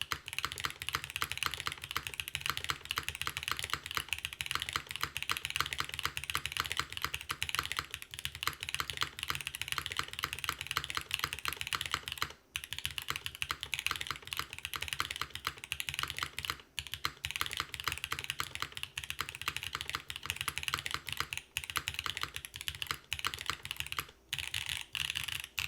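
Steady typing on a KBDFans Dusk67 wooden-cased mechanical keyboard, a rapid continuous run of crisp keystroke clacks at a close, even level with brief pauses and no talking.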